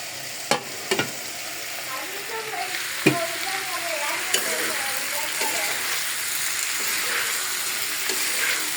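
Pangas fish frying in a pan and being stirred, a steady broadband sizzle with occasional sharp clinks of a utensil against the pan, close up and continuous, with a faint voice in the background.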